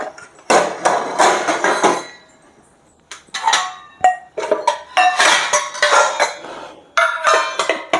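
Metal pots and pans clatter and scrape close by in loud bursts, with clanks and bangs separated by short pauses.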